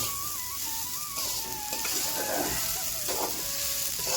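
Sabudana is stirred and fried in a pan with just a little oil for Ekadashi sabudana khichdi. A soft, close sizzle runs under scraping stirs, with faint thin tones drifting in the background and no speech.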